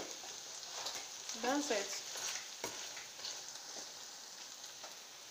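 An egg frying in hot oil in a pan gives a steady, close sizzle and crackle. A short spoken remark comes partway through.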